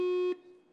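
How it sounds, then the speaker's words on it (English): A contestant's buzzer at a national math competition being tested: one loud, steady electronic beep lasting about a third of a second, then cutting off into quiet hall ambience. "I'll tell you what, Alex, if I could have you test your buzzer, please."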